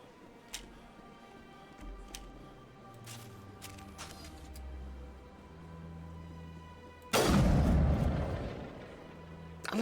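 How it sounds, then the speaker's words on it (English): A heavy sniper rifle shot in the sci-fi game Mass Effect, one loud broadband blast with a short rolling tail near the end, over quiet low ambient tones and faint ticks. "I love the sound that sniper rifles make."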